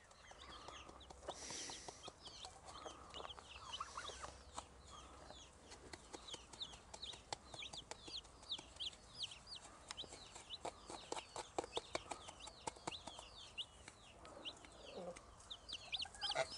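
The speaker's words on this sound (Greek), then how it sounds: "Κότες." Several free-range chickens cluck and chatter nearby, with irregular bursts of clucking and pecking taps over a quiet background.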